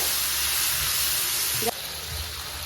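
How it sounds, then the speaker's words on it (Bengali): Fish masala sautéing in a pan gives a steady, close sizzle with a soft hiss throughout, and a brief clink of utensil against pan partway through. No one talks. "এবার এটাকে ভালো করে কষিয়ে নেব"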